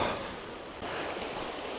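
A river current rushes by in rainy weather, a close, continuous wash of flowing water with a brief break partway through.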